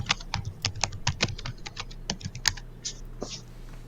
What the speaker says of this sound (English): Ms. Young, we can hear you furiously typing on your keyboard.